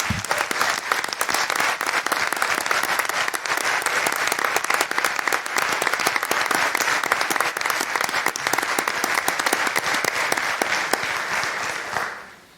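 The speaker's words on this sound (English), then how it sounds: "round of applause for their effort" An audience gives a police department sustained applause, with dense steady clapping that carries on for about twelve seconds before tapering off at the end.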